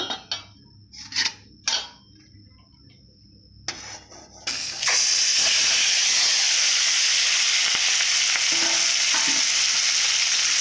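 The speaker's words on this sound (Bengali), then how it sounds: "ট্যাংরা মাছগুলো ভালো করে আমি ভেজে নেব" Intermittent clatter and brief sizzles give way to a loud, steady sizzle of tangra fish frying in hot spiced oil in a kadai, close and continuous.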